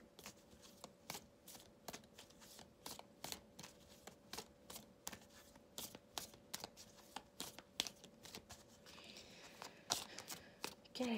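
Oracle cards being shuffled and drawn from a deck during a tarot-style reading: a run of crisp, rhythmic riffling slaps and papery flicks, close and fairly quiet, with a few soft crinkles toward the end.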